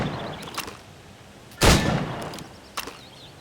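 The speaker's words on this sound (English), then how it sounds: "Shoot these targets." Gunfire at shooting-range targets in Assassin's Creed Rogue: one loud sharp shot stands out mid-clip, with a few fainter cracks before and after against a quiet ambient background.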